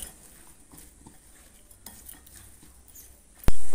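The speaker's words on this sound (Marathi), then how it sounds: "तर आता मी इथे मिक्स करून घेतलेलं आहे" A spoon stirs lemon juice, sugar and salt together in a bowl with soft, repeated close scraping and clinks, ending in a sudden loud knock.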